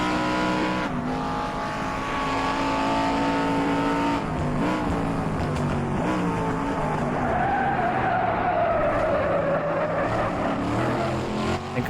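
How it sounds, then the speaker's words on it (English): A race car in a 1960s-style GT racing game on Oulton Park howls with a steady, loud engine drone, and tires squeal in a long rising-and-falling skid under late braking into a corner. "I think I'm braking a bit too late for that last corner."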